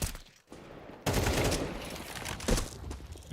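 Pistol gunfire from a Counter-Strike match at the PGL Cluj-Napoca esports event: dense, sharp shots overlapping in loud bursts, with a brief lull near the start and no voices.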